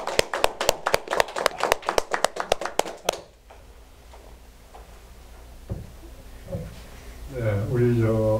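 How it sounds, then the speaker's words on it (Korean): At a lecture forum, a sharp rhythmic burst of close hand claps welcomes a speaker, about a dozen crisp claps over three seconds, then a quiet room with faint shuffling before someone starts talking. "우리 박수로 좀 맞아주세요"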